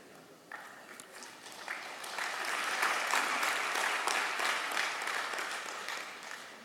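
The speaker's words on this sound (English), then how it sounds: "No, don't clap." An audience bursts into applause, the clapping building from scattered hands into a dense, steady wave that carries on close and loud to the end.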